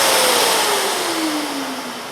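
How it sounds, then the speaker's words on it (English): A Rotex random-orbit sander runs steadily while flattening a wooden seat surface, its whine slowly dropping in pitch under load, loud and close throughout with no talking. "while I still have the machine in the Rotex mode, I'm just going to quickly go over that and kind of flatten out this whole material"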